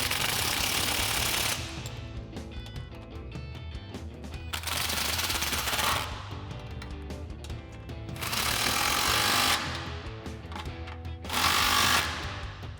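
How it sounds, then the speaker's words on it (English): An impact wrench with a 19mm socket tightens suspension bolts on a Toyota Tundra during a lift kit install, firing in four loud, rattling bursts separated by short pauses. "tighten this side up using our 19mm socket on our impact"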